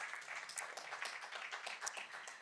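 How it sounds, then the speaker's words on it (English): Audience applause after an introduction at a civic innovation talk, a steady wash of many hands clapping at moderate distance, fairly soft and even throughout, with no voices over it. "Yes, that deserves an applause for sure."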